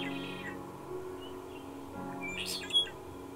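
A red-winged blackbird among cattails gives a brief, faint trilling call near the end, set against a steady low hum and soft background noise.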